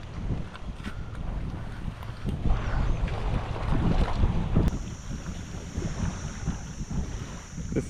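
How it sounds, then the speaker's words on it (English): Gusty wind buffets the microphone while fishing among mangroves from a boat, a loud continuous rushing roar with swells and a faint steady high tone in the background. "That's the swirling nature of wind."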